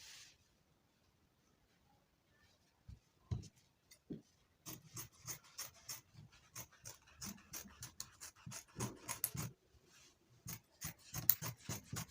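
Scissors snip through fabric pattern pieces for cargo pants in quick, crisp cuts, close and quiet. The cuts come in bursts with short pauses after an initially silent stretch.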